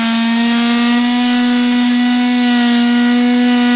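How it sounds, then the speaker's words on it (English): A saw with a worn blade cuts standoffs on a single cab ranch truck, a loud, steady, high-pitched whine that holds one tone throughout, close and with no talking. "We're going to cut our little standoffs in the bottom of this thing here. This blade's very worn out."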